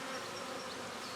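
Honey bees hum inside an opened hive around a heavy frame of capped brood and honey, a dense, steady, close buzz with no voices.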